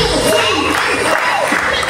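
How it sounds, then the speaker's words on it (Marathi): Audience in a hall at a Marathi business seminar applauding and cheering, a dense steady wash of clapping and crowd noise that holds at full level for the whole stretch. "टाळ्या आल्या पाहिजे सगळ्यांना"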